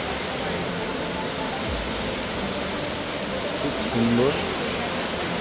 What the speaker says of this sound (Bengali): আর এখান থেকে জলটা এইভাবে দুভাগে বেরিয়ে যাচ্ছে।